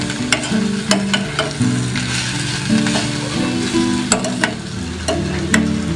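Potatoes and onions fry in a pan with a little roasted spice added, a steady sizzle broken by scraping spatula strokes and clinks against the pan, close and fairly loud.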